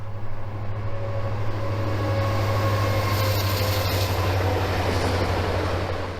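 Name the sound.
train passing near former internment camp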